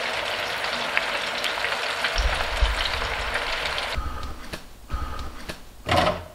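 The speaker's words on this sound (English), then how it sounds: "So now these are going to fry here for about 5 to 10 minutes." Chips deep frying in a fryer: a steady, hissing sizzle throughout, with a few clunks and rattles of the basket or equipment near the end, close and without talk.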